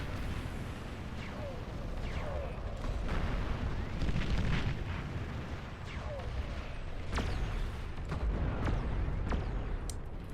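Sniper bots firing on skirmish bots in the strategy game Beyond All Reason, heard as a stream of repeated sharp shots and booming impacts over rumbling battle noise, with a commentator talking throughout.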